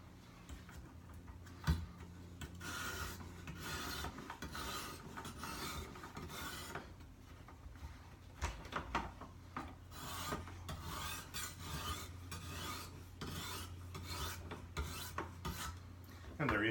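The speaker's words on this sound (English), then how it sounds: "To sharpen the opposite side, rock it off, and repeat on the other side." Knife blade drawn repeatedly through an iSharpW sharpener gives quiet, close, rhythmic rasping strokes with small clicks, steady for about seventeen seconds with no talking.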